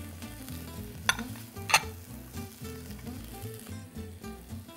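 Green pepper and cubed tomato sizzling and frying in a pan for vegetable zoodle pasta with shrimp, with a steady close sizzle and two sharp stirring scrapes near the start.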